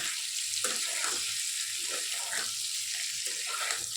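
Potato pieces fry in hot oil in a pan, salted for a dahi aloo dum: a dense, steady sizzle close by, with faint soft stirring movements underneath.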